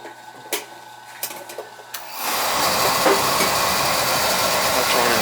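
An office building boiler burner fitted with a smaller nozzle lights after a few soft clicks and then runs as a steady, loud, broad roaring hiss.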